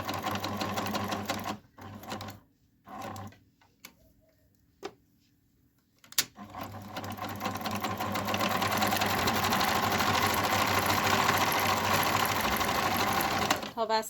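A sewing machine stitches a folded terry-cloth bathrobe belt in short bursts that stop and restart, then settles into a long, steady, fast run of rapid mechanical chatter close to the listener.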